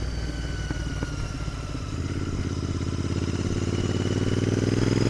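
A Royal Enfield Interceptor 650 motorcycle engine runs steadily while riding, a loud continuous mid-pitched drone held below about 4,000 RPM that thickens and grows slightly louder partway through.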